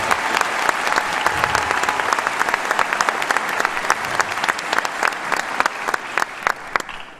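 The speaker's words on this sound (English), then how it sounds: "Can we get a big round of applause for all the work they've done?" An audience at a high school senior night claps for teachers and staff in steady, full applause, with some sharper individual claps standing out, lasting about seven seconds.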